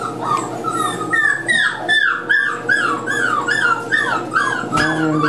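Several young puppies whimper and yip in a steady run of high, wavering cries on their first time in a puppy cottage, close and fairly loud with no talking.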